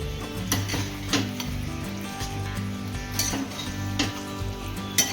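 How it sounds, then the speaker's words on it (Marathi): Cooked mutton is stirred into masala in a pan, giving a soft sizzle with periodic scraping knocks of the spoon against the pan, steady and close, with no talk. "आता चांगलं मिक्स करून घेऊया मटण."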